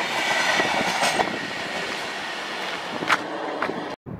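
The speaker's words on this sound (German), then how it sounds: "Das ist der einzige lokbespannte Zug, der als ICE verkauft wird." A DB Metropolitan locomotive-hauled ICE train, capable of 220 km/h, rushes past up close as a loud, steady roar with rail clatter and brief sharper bursts, cutting off abruptly at the end.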